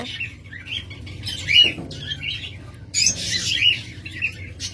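A lovebird with one damaged eye, offered at a bird shop, lets out sharp squawks and chirps in short irregular bursts, close and fairly loud over low background noise.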